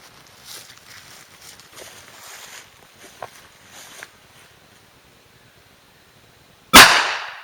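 A ROHM single action revolver fires one light-loaded shot, a single sharp, loud crack near the end that follows several seconds of quiet shuffling and handling noise.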